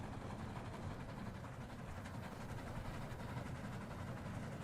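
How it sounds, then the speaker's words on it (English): Train running in the Roblox game Steal A Brainrot, a quiet continuous low rumble that stays flat and unbroken, heard alone without talk. "And this is what the train sounds like."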